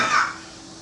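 A single short, dry cough from a preacher with asthma during a church sermon, close and fairly loud, quickly fading into quiet room tone.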